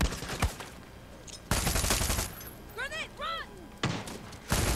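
Gunfire in the Far Cry 6 campaign, loud bursts of shots from several directions broken by short pauses, with a voice talking among them.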